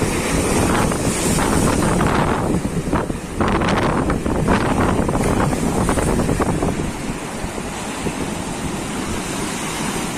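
Big waves of a rough sea at high spring tide break on the beach and surge up to a resort gate, a loud, continuous roar with heavy wind buffeting the microphone and swelling crashes through the first seven seconds.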